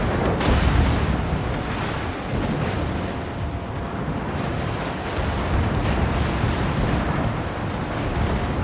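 Naval gunfire in World of Warships fills the scene with continuous, heavy low booms and rumbling blasts during a clan battle, loud and dense without pauses or talk.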